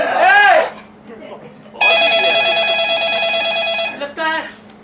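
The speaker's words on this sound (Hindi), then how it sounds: "लगता है केके का फोन होगा।" A telephone rings loudly in a long sustained electronic trill, with a short burst of ringing after it, near and clear amid brief voices talking before and after.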